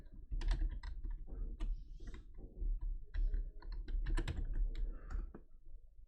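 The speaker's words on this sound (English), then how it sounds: "Wait, what am I typing?" Fingers type on a computer keyboard close by, with irregular bursts of clicking keystrokes, short pauses and a few quicker runs, heard alone without talk.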